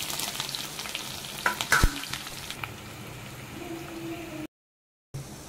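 Sliced onion sizzles and crackles in hot oil with cumin and green chilies in a pan, a steady frying hiss with a few louder sputters early on, a brief gap near the end.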